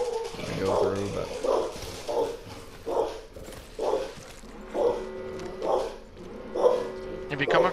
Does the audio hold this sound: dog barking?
yes